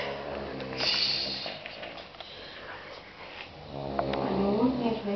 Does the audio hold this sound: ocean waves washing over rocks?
no